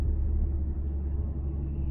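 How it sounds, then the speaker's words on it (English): A deep, low Audi car engine rumble in sports mode holds steady for a couple of seconds, heavy and close, with a muffled throaty tone. "then you guys can really feel how this car sounds"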